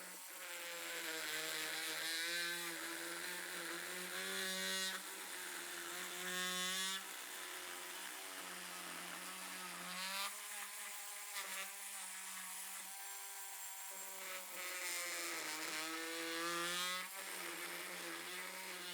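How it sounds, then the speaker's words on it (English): An oscillating multi-tool in a woodwork shop cuts slots in wood, producing a high, whining buzz in repeated bursts of a few seconds each, with pitch bending as it loads into the cut and short pauses between passes. "show you how you could use a multi-tool to do that"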